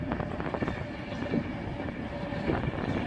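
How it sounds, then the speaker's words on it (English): Virgin Pendolino 11-car electric train at Crewe station on the West Coast Main Line, a moderate steady rolling rumble with faint clicking of wheels over rail joints, no voices. "And here we have the Virgin Pendolino 11 car,"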